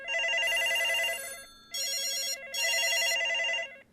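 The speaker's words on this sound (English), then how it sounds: "The phone soon began to ring" A telephone rings with a loud, close electronic warble in three bursts separated by short gaps, with no voices over it.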